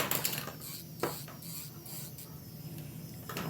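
An electric nail drill whirs steadily up close as it files gel polish off nails, a continuous buzzing hum with a few brief scraping accents.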